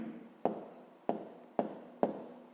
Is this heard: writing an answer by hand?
yes